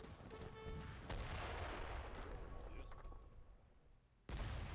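Rapid bursts of gunfire and booming cannon blasts from Age of Empires III: Definitive Edition crackle continuously, with a voice talking over the action.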